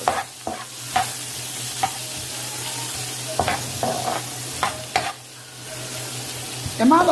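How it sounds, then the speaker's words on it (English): Onions and peppers sizzle in oil in a pan over a medium flame while a spoon stirs and scrapes them. Several knocks and scrapes land over a constant frying hiss and a low hum, all close by. "we're gonna throw our onions and peppers in. Stir them up a little bit"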